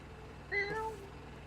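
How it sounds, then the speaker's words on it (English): A cat in a video game gives a single short, clear meow, close and fairly quiet against a faint ambient background. "Cat, why? Why you interrupt?"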